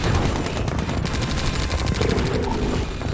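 Rapid, sustained gunfire from a base under attack in the strategy game Red Alert 2 with Yuri's Revenge, dense overlapping bursts of shots rattling loudly and continuously throughout.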